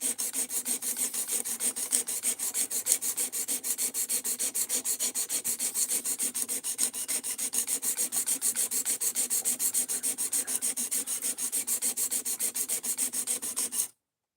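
The uneven factory edge bevel of an Ozark Trail knife is ground down in fast, regular rasping strokes, a close, bright scraping rhythm that runs without a break until it stops abruptly at the end.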